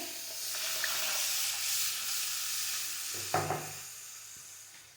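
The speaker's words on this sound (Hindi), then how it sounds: "अब हम इसमें 1 गिलास मिल्क ऐड कर देंगे।" Milk goes into roasted flour in a frying pan for a white sauce, producing a steady close hiss and sizzle, then a brief clatter of stirring near the end, with no speech.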